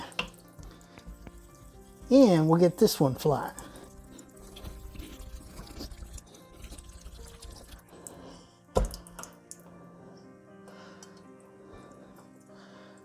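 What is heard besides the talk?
running tap water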